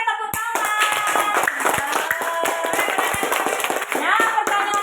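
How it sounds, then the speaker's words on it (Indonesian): A primary school class claps hands together in the classroom, a quick flurry of sharp, uneven claps close by with children's voices mixed in. "Oke, tepuk tangan."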